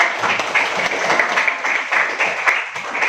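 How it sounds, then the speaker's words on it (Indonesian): Classroom applause from students, a lively patter of many hands clapping close by, with uneven bursts and a few sharper individual claps over the brief stretch. "tepuk tangannya dong"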